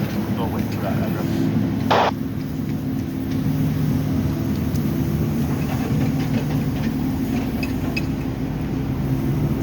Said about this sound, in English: Still got the generator running